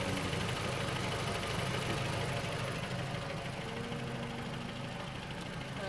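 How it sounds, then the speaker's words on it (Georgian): A hot 2016 Toyota RAV4 with a 2.5 engine idles in a steady, even mechanical drone with a faint ticking texture, close and continuous throughout. "ეს არის 2016 წლის მოდელი Toyota RAV4 და ძრავი აქვს 2 და 5."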